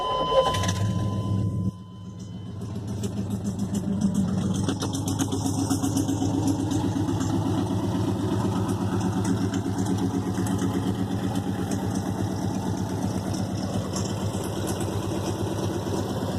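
A 1994 GMC truck engine turns over and settles into a steady, continuous idle with unfinished, unhung exhaust pipes, heard alone without talk.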